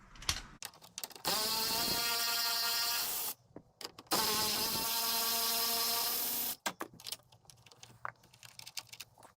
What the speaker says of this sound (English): the first step is going to be remove this bolt and this one here. Both are size 10 millimeters.